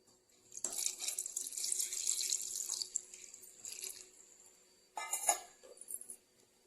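Water runs steadily for a couple of seconds into freshly churned butter, pauses briefly, then splashes again in a shorter burst with faint clinks.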